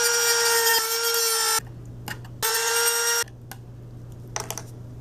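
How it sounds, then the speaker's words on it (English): A power tool cuts into the plastic side panels of a bench power supply case in two loud, high-pitched whining bursts, each lasting over a second, separated by a quieter pause with a low hum and small clicks. "I need to cut just a little bit off of the side panels so that I have enough room"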